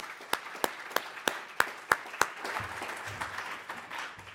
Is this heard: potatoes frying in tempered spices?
no